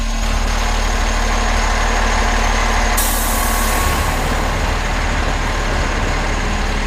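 A big fire truck or monster truck engine roaring loudly and continuously, a heavy low rumble with a hissing air-brake burst partway through and no talking.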